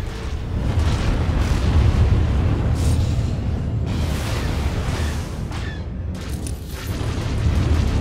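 A missile impact in the Star Wars: The Old Republic starfighter game lands as a loud, continuous rumbling boom with repeated blasts and whooshing bursts throughout, no talk.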